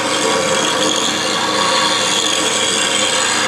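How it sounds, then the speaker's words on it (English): A bowl gouge pressed against a bench grinding wheel to form a secondary bevel, producing a loud, continuous, close-up abrasive rasp with no pauses. "and grind it away, and that gives me the secondary bevel"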